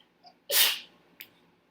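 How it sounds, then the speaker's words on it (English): A single sharp human sneeze bursts out close and loud, with a faint breath just before it and a short soft follow-up sound after, in an otherwise quiet room. "I have a sneeze."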